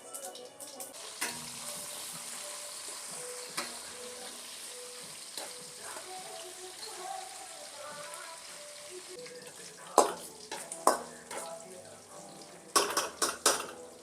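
Onion and chili frying in a pan after cumin has crackled, a steady soft sizzle with scattered clinks and scrapes of a spoon against the pan, several sharper metallic knocks near the end.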